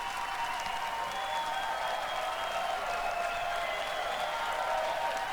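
A crowd's applause comes through an open microphone during a live futures-trading radio stream, a dense, even wash of clapping that holds steady throughout at moderate level with no talk over it.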